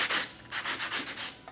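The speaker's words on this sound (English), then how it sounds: "I might want to take my sanding block" A sanding block rubs back and forth on a glued wooden model house wall frame in short, rhythmic, raspy strokes, about seven to eight passes, close and clear.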